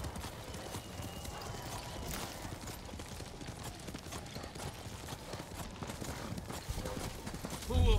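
Steady clip-clop of horse hooves trotting throughout in the video game Ghost of Tsushima, with fire crackling and a brief louder thump at the end.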